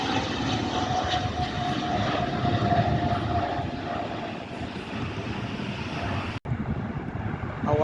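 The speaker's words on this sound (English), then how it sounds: "We got a Hawker Beechcraft 400 XP jet inbound from Portland," A Hawker Beechcraft 400 XP business jet inbound to Cleveland's airport roars steadily and loudly, a continuous broad engine rush that holds for several seconds with one brief dropout near the end.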